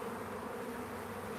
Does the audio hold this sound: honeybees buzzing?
yes